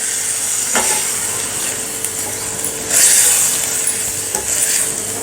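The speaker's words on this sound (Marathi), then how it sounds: "हे भिजवून घेतलेले राळ्याचे तांदूळ घालून घेऊयात आता हे थोडंसं मिक्स करून घेऊया" Soaked foxtail millet being stirred in a pan for pulao, a spoon scraping and shuffling the wet grains over a steady hiss and sizzle, with a louder burst of scraping partway through.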